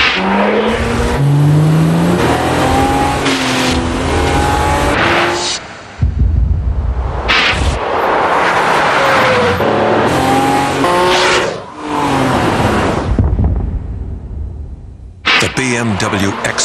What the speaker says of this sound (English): BMW X5, another ultimate driving machine.